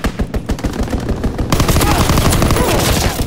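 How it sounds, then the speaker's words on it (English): Fighter plane strafing gunfire in Call of Duty WWII, loud rapid bursts of machine-gun fire, first in separate staccato volleys, then a dense continuous barrage. "Fighter pilot inbound, strafing the target."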